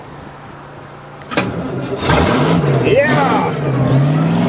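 A 1986 Grand Marquis with a makeshift gas system cranks and catches on its first test start, the engine firing up and settling into a steady, loud idle and rev, with an excited shout over it.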